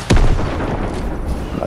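Rocket launcher fires in a first-person shooter game: one sharp, loud blast right at the start, followed by a rumbling boom that lingers through the rest of the moment with some low background game noise.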